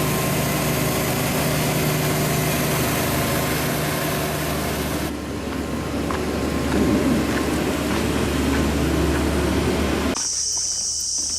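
A propeller boat engine idles with a steady low droning hum, joined by a constant high chirring of insects, and the drone fades and shifts partway through.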